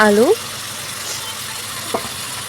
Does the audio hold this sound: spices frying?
yes